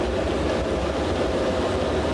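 A 7.5 horsepower organ blower motor runs with a continuous low, rumbling drone and a dense, rough roar, steady and loud with no breaks.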